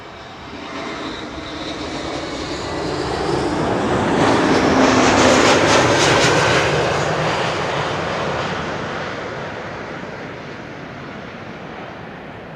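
An Aegean Airbus A321neo arriving at Schiphol gives a loud, sustained jet roar that swells as the aircraft passes close overhead, then slowly fades, with no voices.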